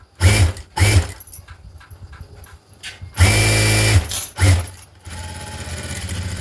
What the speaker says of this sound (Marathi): मशीन मागे पुढे करून टीप लॉक करायचे